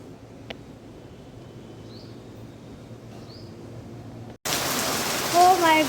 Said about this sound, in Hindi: बहुत तेज़ बारिश आ गई अभी।